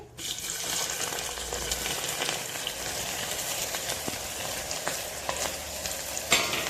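Cumin seeds frying in hot oil in a home kitchen, a steady close crackling sizzle that runs throughout, with a few brief clinks partway through and a sharp rise near the end.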